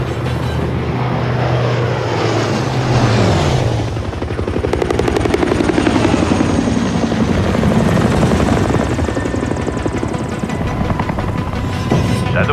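A helicopter in Call of Duty Modern Warfare III spooling up for takeoff, its steady engine drone rising into a loud rotor thrum with a pulsing beat that holds and grows across the clip.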